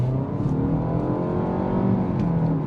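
A 2023 Nissan Altima with 182 horsepower drives and accelerates, its engine giving a loud, steady rising drone with road and wind noise and a faint whir heard from inside the cabin.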